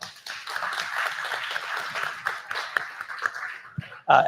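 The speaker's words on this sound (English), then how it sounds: "maybe you can join me in a round of applause for all of them" An audience gives a round of applause at an event's opening remarks, moderate steady clapping at mid distance over a low hum, ending with a louder burst of noise.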